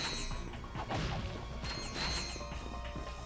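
Wooden crates smashed in the video game Ratchet & Clank: Size Matters, a quick run of cracking breaks and bolt-pickup jingles over busy game music and effects, steady and loud throughout.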